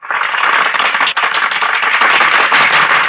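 Scene from the 1990 Hindi film Kroadh: an audience applauds in a steady, loud, hissing wash of many clapping hands that carries on without a break.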